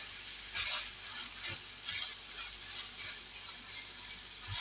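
Minced meat with tomato paste frying in a pan while being stirred, with a steady close sizzle and periodic soft scrapes from the spoon, no voices.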